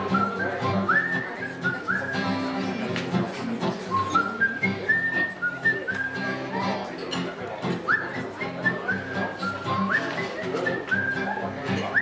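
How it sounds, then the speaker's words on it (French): A person whistles a melodic song refrain at length, with bright sliding notes running in phrases against a busy background of music and room noise. "Et je siffle en vain ce refrain, l'air qu'elle me sifflait dans son bain"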